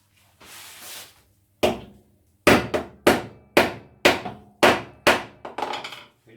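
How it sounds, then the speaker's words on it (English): Hammer blows drive a bolt into a homemade wooden no-hole circle cutting jig: about nine sharp, loud strikes in a steady rhythm, following a brief softer scrape of winding the bolt. "Back it off, and then hammer it in."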